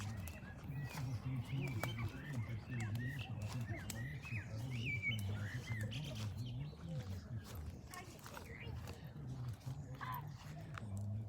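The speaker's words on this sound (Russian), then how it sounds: "Там вон деревья, птички поют." Small birds singing among trees at an outdoor campsite, scattered chirps over a constant low rumble of wind and handling noise.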